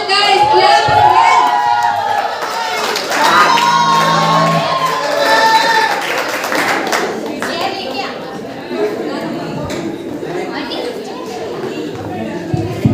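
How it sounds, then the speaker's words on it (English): A school farewell crowd of students shouts and cheers loudly and steadily ahead of a senior's dance performance, with children's voices and chatter mixed into the sustained din. "Come on, guys, clap again."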